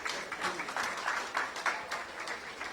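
Audience at an AECID project closing seminar gives a warm round of applause, many hands clapping densely and evenly throughout with slight swells in intensity.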